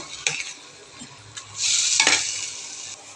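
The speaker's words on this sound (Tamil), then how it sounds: "இது கொஞ்சம் வதங்கட்டும்" Green masala anchovy fish curry sautés in a pan, with a few clinks and scrapes of a spoon stirring before a steady, close sizzle takes over.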